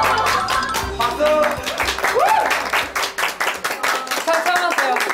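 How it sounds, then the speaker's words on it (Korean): A small group claps together in several bursts during a food-tasting game, with sharp close hand claps amid lively chatter and laughter, the clapping growing more rhythmic and spaced toward the end. "박수."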